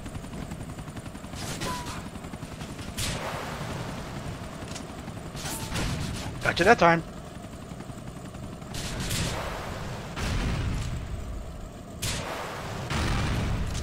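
Rocket launcher fire and explosions against a helicopter in the video game Grand Theft Auto IV, a few loud blasts with a heavy impact burst midway over steady rotor and engine noise, with someone talking.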